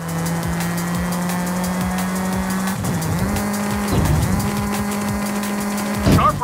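Car drifting in the Forza Horizon 5 racing game, a steady loud engine drone with long tire squeals that dip and return several times, ending in a sharper screech.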